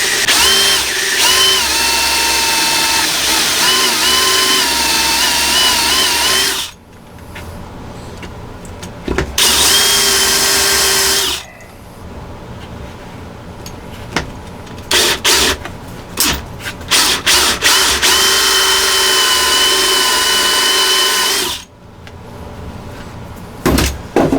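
A power drill with a Forstner bit whines in several long bursts, drilling a pottery bat, stopping and starting, with clunks and handling noises in the quiet gaps between.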